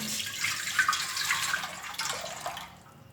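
Water pours steadily into a cooking pot while lukewarm water is added for boiling plums, a bright splashing stream running for about two and a half seconds before stopping abruptly.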